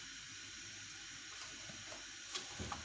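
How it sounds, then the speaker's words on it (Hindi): Water running steadily into a wok to boil rice, a continuous broadband hiss and splash throughout with a few brief clinks near the end. "एक कढ़ाई में लेंगे जी हम खूब सारा पानी"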